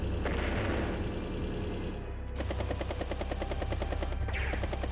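Video game battle sounds from Advance Wars as a battlecopter attacks a tank: a helicopter rotor whir leads into rapid, repeated machine-gun bursts with sharp hits, loud and continuous, no talking.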